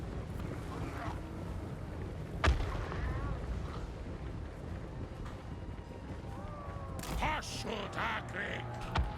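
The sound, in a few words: artillery bombardment in Total War Warhammer 3 video game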